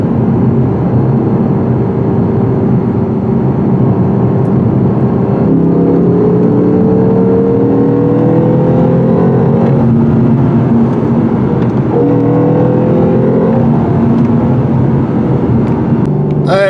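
A 2017 Lexus RC F V8 engine drones steadily and loudly under load climbing a steep grade, its pitch rising gradually in long sweeps as it pulls harder.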